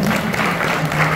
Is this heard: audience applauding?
yes